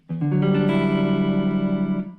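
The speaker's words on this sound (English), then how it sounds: "there's a bunch of open notes that are ringing there" A single strummed guitar chord, a partial chord shape, rings out loudly with open strings sustaining together, holding steady for about two seconds before fading.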